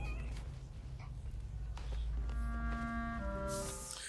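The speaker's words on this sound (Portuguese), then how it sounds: "Cadê o gatinho? Tá aqui. O gatinho." A kitten meows in Spider-Man: Miles Morales, a thin, drawn-out mewing cry rising over a low background rumble of game sound, fairly close and clear.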